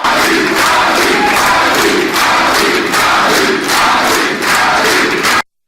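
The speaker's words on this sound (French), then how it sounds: "sous les applaudissements nourris du public acquis à sa cause" A crowd of supporters greets a politician with sustained applause and cheering, loud and close, rising and falling in waves before cutting off abruptly.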